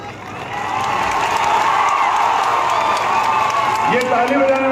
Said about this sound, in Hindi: ये ताली बजाने वाली क्या बात है?